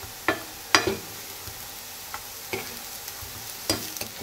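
Falafels frying in a little olive oil and being turned over, a low constant sizzle broken by several sharp scrapes and taps as each one is flipped in the pan, close up with no talking.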